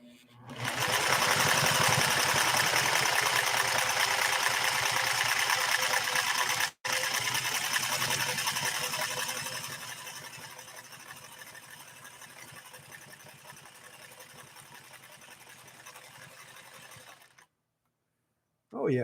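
A Singer 401A sewing machine stitches denim with a fast, steady mechanical whir and needle clatter, running loud before easing to a softer pace and stopping, with a brief pause partway through.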